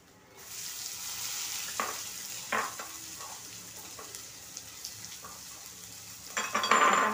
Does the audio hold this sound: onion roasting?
yes